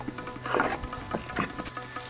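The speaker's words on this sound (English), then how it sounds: "The seeds start to splatter." Rapid crackling and popping of cumin seeds spattering in hot oil, steady and close, with a few louder bursts.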